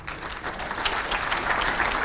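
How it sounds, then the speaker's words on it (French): Conference audience applauding speakers after a talk on health monitoring for firefighters: full, continuous clapping from a room of people, steady and fairly loud, slightly swelling toward the end. "on peut les applaudir"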